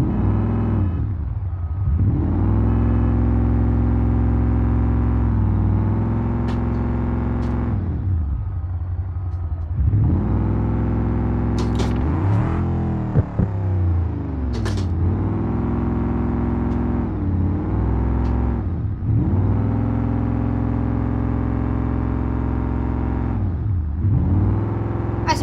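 Simulated car engine in BeamNG driving continuously, loud and close, with repeated rev rises and drops as it accelerates and shifts, plus a few brief clunks midway.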